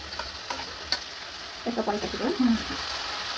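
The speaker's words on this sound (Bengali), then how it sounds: "লোভনীয় জিনিস রান্না হচ্ছে, চিকেন কষা" Chicken kosha cooking in a pan with onion paste: a soft, steady sizzle with occasional stirring scrapes, and a voice rising briefly over the frying.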